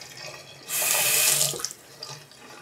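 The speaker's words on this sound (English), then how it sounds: "Got the water going." A newly installed bathroom vanity sink faucet is turned on, and its loud, close hiss of running water lasts about a second before cutting off, followed by a few faint drips and clinks.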